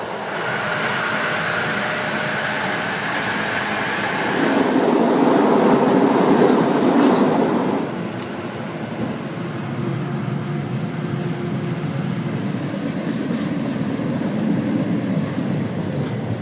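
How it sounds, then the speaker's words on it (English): A train arrives at a station in Pomerania, near Szczecin, rumbling loudly and continuously with rolling rail noise that swells in the middle, then settles into a steady hum. "The train should be here in a minute."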